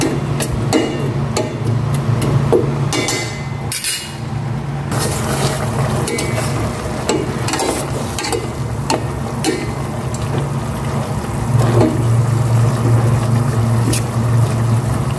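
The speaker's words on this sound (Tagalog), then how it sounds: "Luto ng aking gulay na kalabasa, sitaw." Squash and string beans stir-fried in a pan with a little pork, a steady loud sizzle with scraping and clattering of utensils against the pan, close and continuous, with no voices.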